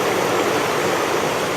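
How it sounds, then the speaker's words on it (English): A dense, continuous roar of rushing water, steady and loud throughout, from the flooded Susquehanna River churning past. "the sound of the mighty Susquehanna roaring"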